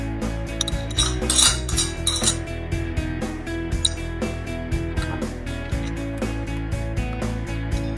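Whitebait omelet batter with corn flour is stirred in a bowl, a steady fast run of metallic clinking and tapping from the utensil against the bowl, close and continuous with no speech.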